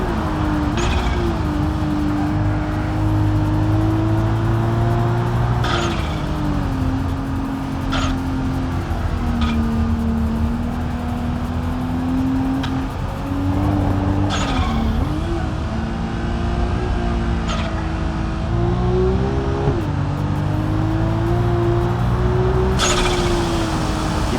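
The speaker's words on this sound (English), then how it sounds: "Get that turbo noise in though." Turbocharged car lapping the Nordschleife in a racing game, continuous engine drone rising and falling through gear changes with periodic sharp shifts and a whistling turbo edge, loud and steady.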